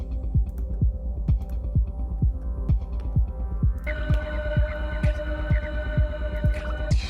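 Electronic synth pad built with PaulxStretch in Ableton Live, a low throbbing pulse repeating at a steady beat under a sustained humming drone, joined midway by brighter high sustained tones.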